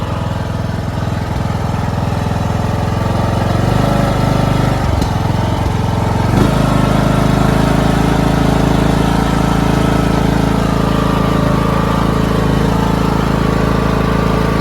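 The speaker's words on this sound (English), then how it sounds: "Yeah, driving around another free tractor." A Toro Wheelhorse 1438HXL hydrostatic lawn tractor with a rebuilt engine drives steadily, its engine droning loud and close throughout, with a brief dip in the note partway through.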